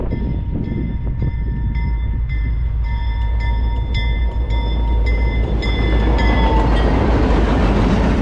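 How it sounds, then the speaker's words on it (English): CPKC light locomotive units run on the Heron Bay subdivision near Marathon, Ontario, from White River toward Scriber: a deep, steady rail rumble with rhythmic wheel clicks and thin tonal squeals, growing louder as they pass close by. "Light units heading back to Scriber from White River after running the propane train east"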